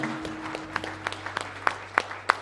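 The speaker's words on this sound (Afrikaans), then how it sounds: "Kom ons gee hom 'n hande klap." Applause from a church congregation for the preacher Kobus Rademeyer, scattered claps building over a steady hum, with occasional louder sharp claps toward the end and no talk.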